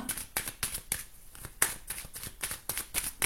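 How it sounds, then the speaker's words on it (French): Tarot cards are shuffled close by in quick riffling bursts, a rapid series of crisp flicks and slaps with no talk over them. "Je remélange."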